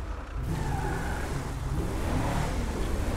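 A Wuling pickup in GTA V driving with turbo fitted: a steady, fairly quiet engine drone with slight swells in revs, holding throughout without speech.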